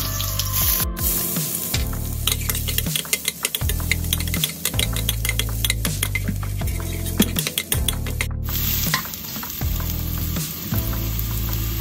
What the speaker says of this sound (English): Saute the garlic and the ginger.